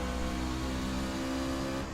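Race car engine winding up during an oval race at Phoenix in iRacing, a loud continuous high-pitched whine of rising revs, close and unbroken, with no talking.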